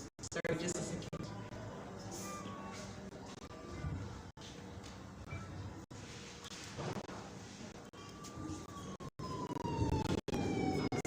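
A wailing emergency-style siren is played over music at a dance bootcamp event, sweeping up and down over busy background sound with people talking, and it grows more prominent toward the end.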